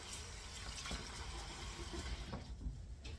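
Knitwear swished around in a basin of soaking water gives soft, close sloshing and splashing, irregular and fairly faint, with no talk.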